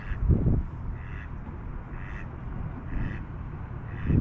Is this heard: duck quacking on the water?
yes